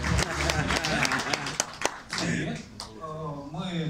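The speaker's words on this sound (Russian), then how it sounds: "Аплодисменты команда Миника." A hackathon audience claps for a team, with a burst of applause running beneath a speaking voice that carries on over the clapping throughout.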